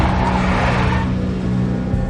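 A big black Mercedes drives in the Max Payne mobile video game, a loud, close engine roar and road rush that eases slightly as the car moves on.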